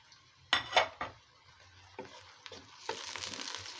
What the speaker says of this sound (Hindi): प्याज मेरी भुन रही है